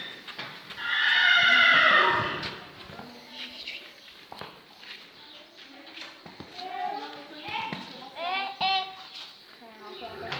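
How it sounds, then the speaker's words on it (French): A pony whinnies with a long, loud, wavering neigh near the start, then softer snorts and short calls follow while people chatter in French in the background. "Mon poney."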